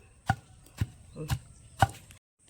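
Four sharp, evenly spaced pounding thuds of a pestle striking ingredients for Andhra mango pickle, close and moderately loud in an otherwise quiet space.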